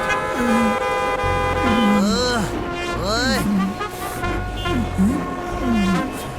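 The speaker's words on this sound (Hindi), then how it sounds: "वो देखो, वो तो पीछे बैठा हॉर्न बजा रहा है।" A vehicle horn in a children's cartoon honks as steady, sustained tones under animated character voices and lively chatter.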